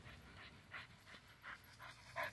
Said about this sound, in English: Breathing kind of hard